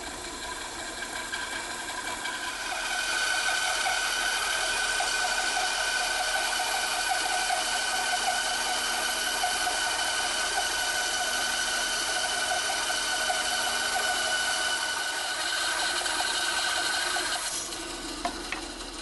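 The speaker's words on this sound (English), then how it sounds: "Let's get this blade going through the mahogany here and we'll see how it goes." Band saw blade resawing a mahogany board into veneer, a steady harsh whirring rasp that rises as the cut begins, holds evenly for about fifteen seconds, then eases off, close and with no talking.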